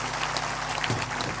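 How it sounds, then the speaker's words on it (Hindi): Audience clapping to welcome a visiting maharaj at a spiritual discourse, a dense, continuous patter of hands at close range for a brief stretch. "ताली बजाकर उनका अभिनंदन करिए।"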